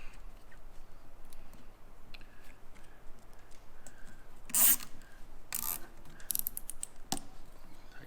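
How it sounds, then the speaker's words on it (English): A zip tie is worked through and pulled tight on a Koni shock absorber during a '35 Factory Five hot rod truck build: quiet rubbing and faint ticking, then a few sharp plastic ratchet zips and snaps close by, with no talking. "bending the end of the zip tie here so you can kind of make this bend a little bit easier. Just work it through."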